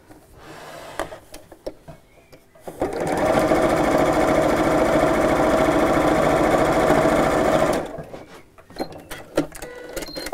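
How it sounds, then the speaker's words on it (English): Sewing machine topstitching across the top of a fabric pocket, a steady close mechanical whir lasting about five seconds, with soft handling of fabric before and after. "I'm just going to fold the top back and I'm going to top stitch."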